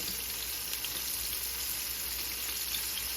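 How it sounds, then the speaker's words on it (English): Honey butter ribs coated in flour fry in hot oil, a steady, dense sizzle that crackles evenly and close up throughout, with no talking. "Let them fry."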